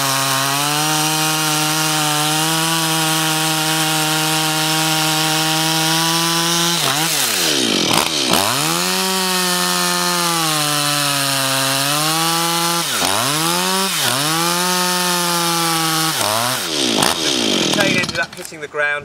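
A chainsaw, its chain dulled by hitting ground and small stones, revs steadily then bites into wood, its loud engine drone dipping and surging through several cuts.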